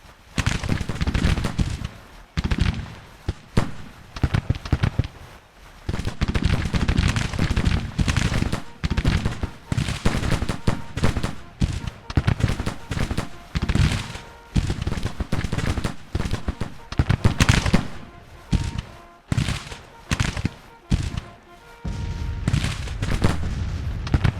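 Dense, loud volleys of Civil War musket fire and booming canister shots in the Grand Tactician video game battle, crackling in waves with brief lulls between bursts, continuous chaotic gunfire for the whole stretch with no voices.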